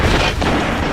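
A grenade explodes in Destiny's Trials of Osiris mode. It is a loud, dense blast that fills the whole brief moment, with a slight dip partway through before the rumble continues.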